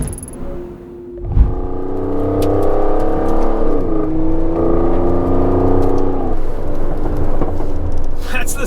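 Aston Martin DBS Superleggera accelerating hard to 80, its engine note climbing through rising gears with a brief dip at a shift, loud and sustained, heard from inside the car.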